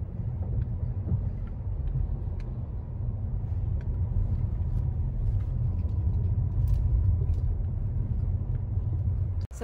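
A car cruises along a road through the woods of Pea Ridge National Military Park in Arkansas, heard from inside as a steady low engine and road rumble with faint ticks, ending in a sudden thump.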